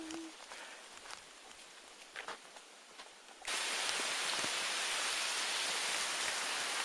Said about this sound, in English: the rain is now picking up